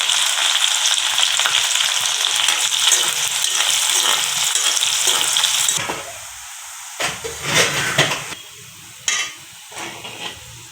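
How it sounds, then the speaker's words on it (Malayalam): Chopped small onions hit hot oil in which ginger has already been fried, giving a loud, steady sizzle that drops off partway through. A few stirring scrapes and bursts of renewed hissing follow. "അരിഞ്ഞ് വെച്ചിരുന്ന ചെറിയ ഉള്ളി നമുക്ക് ഇഞ്ചി ഫ്രൈ ആക്കിയ എണ്ണയിലോട്ട് ഇട്ട് കൊടുക്കാം"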